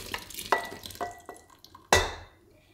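A batter stirrer scrapes stuck sugar from the bottom of a bowl into a pan, giving several quiet, sharp scrapes and clinks, with one louder knock near the end and no talking.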